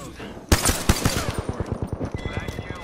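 Gunfire in a shooter video game bursts in suddenly after a quiet start, then continues as rapid automatic fire with a fast, rhythmic series of sharp shots.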